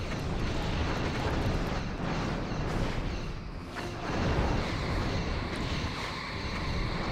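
Torpedoes hit ships in a Star Trek space battle video game, a Cardassian Hutet class against six Cray class vessels, producing dense rolling booms and a continuous loud rumble with a brief dip midway.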